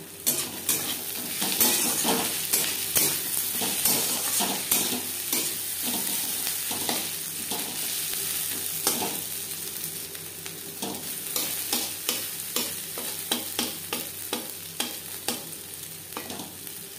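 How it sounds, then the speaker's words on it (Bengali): Crushed garlic fries with onions in oil, a loud steady sizzle running throughout while a spoon scrapes and clinks against the pan in a regular stirring rhythm. "চার 5 মিনিট পেঁয়াজ ভেজে নেওয়ার পর দিয়ে দিলাম রসুন।"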